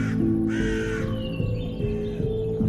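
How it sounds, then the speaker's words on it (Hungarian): A raven caws inside a horror-mod video game, several harsh croaking calls in a row over low, droning background ambience. "Mi ez, holló, vagy mi ez?"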